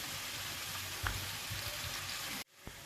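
Onions fry to light brown in a pan, giving a continuous close hiss with a few soft spatters. The sizzle cuts off abruptly near the end, leaving a quieter background.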